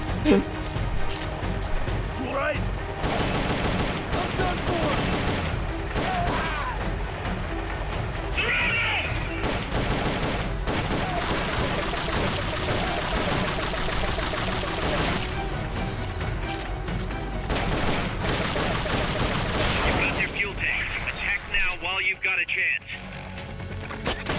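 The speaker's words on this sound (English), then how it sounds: "What happens if you shoot the tank with a sleep dart?" Rapid gunfire and blasts from the video game Metal Gear Solid: Peace Walker, dense and continuous across the clip, mixed with game sounds while players talk over it.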